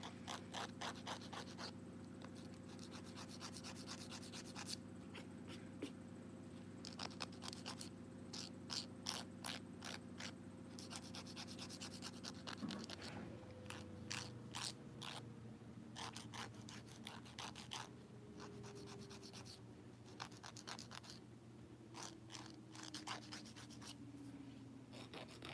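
Acrylic nails being filed into shape give a continuous run of quick, rhythmic rasping strokes. They are close and steady over a low background hum.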